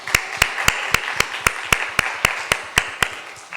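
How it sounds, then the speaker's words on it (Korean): A church congregation claps in unison, a steady rhythm of about a dozen sharp, evenly spaced claps at moderate volume, with no voices. "이들을 위해서 감사의 박수를 한번 하겠습니다"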